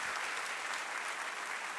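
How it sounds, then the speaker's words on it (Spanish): A church congregation gives a burst of applause during a Spanish-language service, a dense, even wash of many hands clapping at a steady level throughout. "dale un fuerte aplauso a la presencia de Dios"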